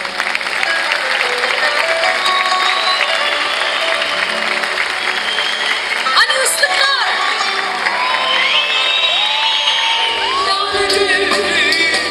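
A concert audience in Osmangazi applauds the district mayor Mustafa Dündar with loud, sustained clapping, cheering, whoops and shouts that fill the hall without a break.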